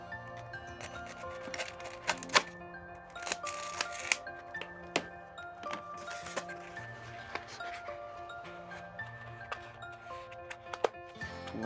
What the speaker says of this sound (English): I'm going to cut the insulation to suit the pipe.